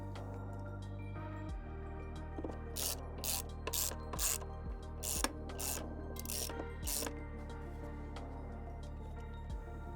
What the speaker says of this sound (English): Remounting the left passenger footrest with the 2 screws that you took out.